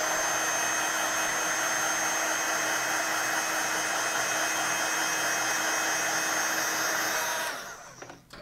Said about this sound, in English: I might as well get out my heat tool and do that.